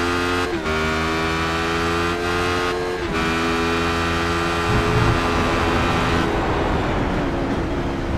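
Radical race car engine heard onboard during a PRL Radical Series race at Road Atlanta, a loud, steady high-revving drone with sharp gear-change dips around one, three and six seconds, no talk over it.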